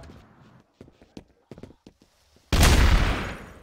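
In the online game Trouble in Terrorist Town, scattered quiet clicks and brief voices give way to a loud, sustained burst of gunfire that fills the last second.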